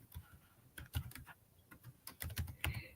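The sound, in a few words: typing a word on a computer keyboard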